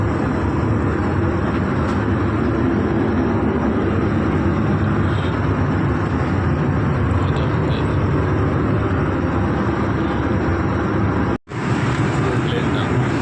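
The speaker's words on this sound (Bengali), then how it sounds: "জাহাজটা এখন বর্তমানে রোডে ল্যান্ডিংয়ের জন্য দৌড়াচ্ছে" An Air India airliner rolls down the runway on landing, heard from inside the cabin as a loud, steady roar and rumble, broken by a brief cut near the end.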